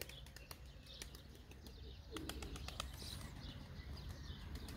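A pet goldfinch beats its wings in short bursts while being made to fly indoors, the soft flutters broken by sharp clicks and light chirps over a steady low background hum.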